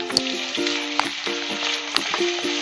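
Onions and curry leaves sauté in hot oil in a pan for a Chettinad chicken curry, crackling steadily with occasional sharp spatula taps, over faint background music.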